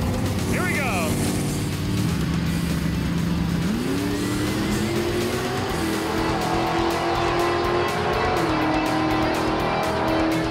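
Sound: 1959 Chevy Corvette making a drag racing pass

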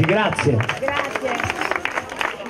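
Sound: applause from the crowd at a charity walk

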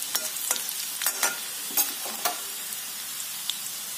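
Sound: garlic frying and being stirred in a pan for sarson ka saag

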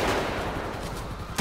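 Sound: gunshots from the video game GTA 5

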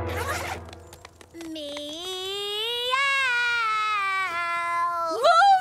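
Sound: cartoon character imitating cat meow

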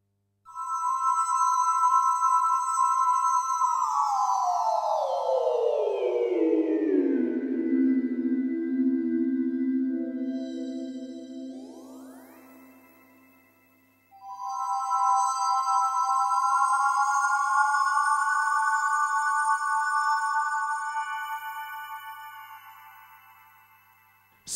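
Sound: Roland JD800 synthesizer Fantasia factory preset

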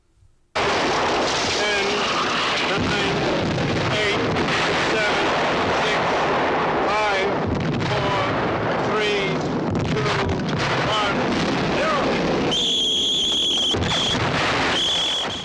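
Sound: explosions and gunfire from war film

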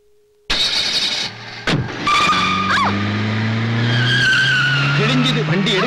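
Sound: car driving off fast with tires skidding

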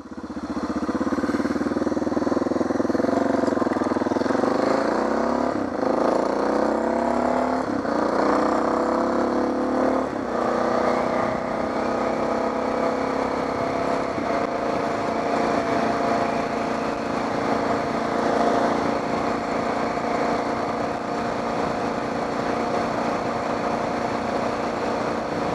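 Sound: Suzuki DR650 motorcycle engine running

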